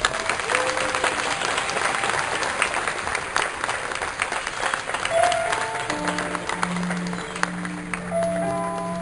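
Audience applause fills a graduation ceremony in a festive hall, steady dense clapping throughout with crowd noise, a few tonal notes emerging toward the end.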